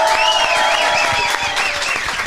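Applause from an audience greeting a DJ, a crowd clapping steadily under music with a warbling synth melody, the clapping and tune mixed at a similar loudness.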